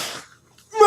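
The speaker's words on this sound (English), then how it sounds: "Hold on, I gotta sneeze." A single close sneeze, with a brief sharp inhale, a short pause, then a loud explosive burst, heard alone.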